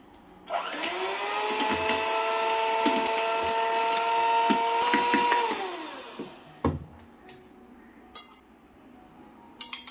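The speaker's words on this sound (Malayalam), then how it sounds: "ബീറ്റർ ഇല്ലാത്തൊരു പഞ്ചസാര ഇട്ടിട്ട് മിക്സിയിൽ അടിച്ചെടുക്കണം" A kitchen mixer grinder whirs steadily for about six seconds while powdering sugar, its motor tone sliding down as it spins to a stop, followed by a few light clinks and taps of utensils.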